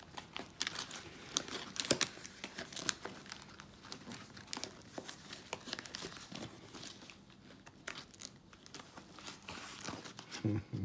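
A plastic pack of gallon-size double zipper storage bags is torn open and handled, giving close bursts of crinkling and crackling plastic with short pauses between them.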